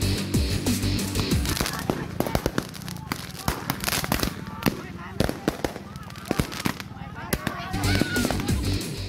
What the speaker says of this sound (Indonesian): terlibat tawuran perang petasan di sebuah lahan kosong di Pagedangan